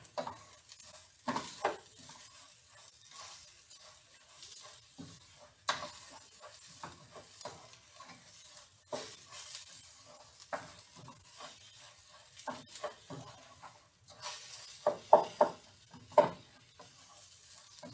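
Food frying in a pan and being stirred, faint sizzling beneath intermittent clacks and scrapes of a utensil, quiet and close with scattered louder knocks.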